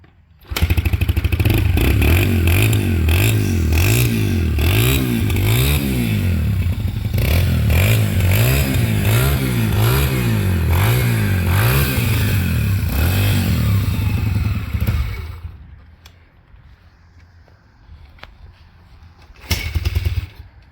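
An old dirt bike engine runs loud and close for about fifteen seconds, its low pulsing idle wavering and revving in rhythmic surges, then cuts out to near quiet before a brief final burst.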